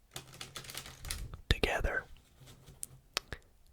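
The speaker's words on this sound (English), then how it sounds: "shuffling these two piles together" Two piles of playing cards are shuffled together close to the mic, producing a brief crisp riffle and clatter in the middle, surrounded by soft taps and a quiet whispering voice.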